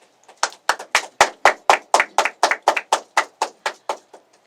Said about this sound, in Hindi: तालियों से स्वागत हो जाए